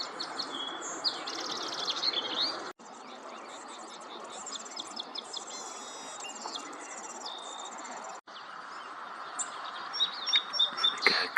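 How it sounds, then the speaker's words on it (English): At a sunset bird event at a San Diego wildlife refuge, an orange-crowned warbler sings in short high trills over steady insect and cricket chirring, with other distant bird calls and a brief gap in sound. "or no, it's an orange crowned warbler."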